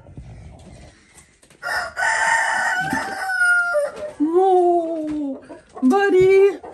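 A pet rooster crows in a kitchen, two long loud calls up close with a shorter call at the end, over faint background noise.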